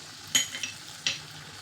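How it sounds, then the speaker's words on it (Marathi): Mustard seeds and urad dal sizzle in heated oil, a low steady hiss broken by three or four crisp pops, close and fairly quiet with no voices. "तेल तापवून घेतलंय, त्यामध्ये घालायची मोहरी आणि ही 2 चमचे उडदाची डाळ घेतलेली"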